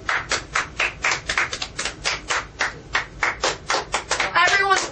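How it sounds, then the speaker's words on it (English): A small studio audience at a televised talent show claps in rhythmic bursts, sounding like a few people's hands, fairly close. A voice talks briefly near the end. "Hold your applause."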